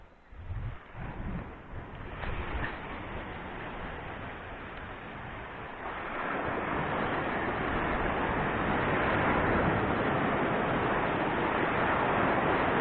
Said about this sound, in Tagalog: Ayan na, malaking alon.